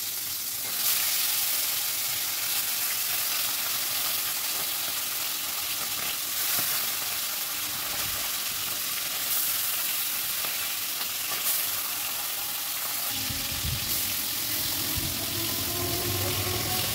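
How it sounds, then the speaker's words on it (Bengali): A second batch of fish frying in the same hot oil gives a long, steady, close sizzle and spatter, with a few sharper pops and a brief lower rumble near the end, no voices. "বাকি মাছগুলোই একই তেলে আমি ভেজে নিচ্ছি।"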